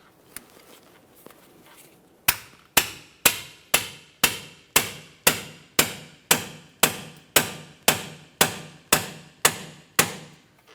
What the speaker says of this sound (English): you're going to have to use a hammer and possibly a pickle fork to separate it